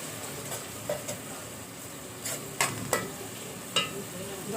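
Tomatoes cooked soft with red chilies, salt, turmeric and black pepper sizzle steadily in a karahi for mutton karahi, broken by several sharp scraping strokes of a stirring spoon.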